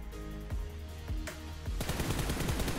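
Rapid bursts of automatic rifle fire at a training target in PUBG Mobile, loud cracks repeating every half second or so, then a fast continuous volley at the end.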